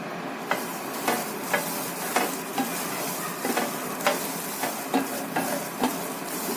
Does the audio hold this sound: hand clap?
no